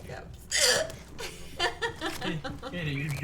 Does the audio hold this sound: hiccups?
yes